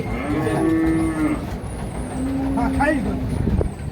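A young heifer moos twice, loud and close, at a busy cattle market where animals are bought for Qurbani, with a low steady hum of surroundings underneath.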